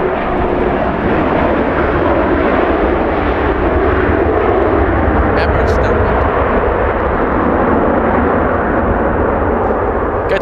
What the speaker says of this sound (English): Good sound from the 767.